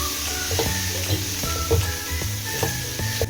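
Soaked beaten rice (poha) being stirred into a hot tempering in a pan, with steady frying sizzle and repeated scraping, clattering stirring strokes close by, no talk.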